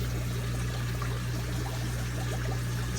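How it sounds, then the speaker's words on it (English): Water from an aquarium filter bubbles and trickles over steadily, a dense continuous gurgling pour with a low electrical hum underneath, close and fairly loud. "it's bubbling over from the air"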